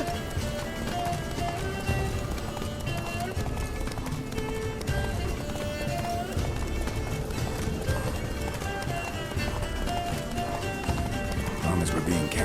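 Hooves of Roach, Geralt's horse in The Witcher 3, pound in a steady gallop throughout, close and continuous, under game music and occasional voices.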